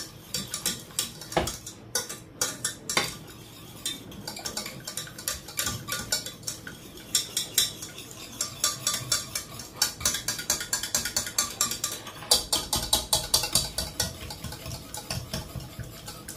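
Butter sauce (beurre blanc) being whisked in a pan, with a steady, rapid metallic clatter of the whisk against the pan running throughout, loud and close, with brief pauses and no talk.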